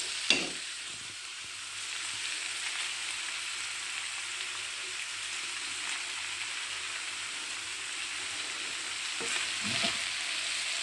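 Rice frying in a hot pan for Nigerian fried rice, a steady dense sizzle with stirring scrapes throughout, close and fairly loud, with no voices.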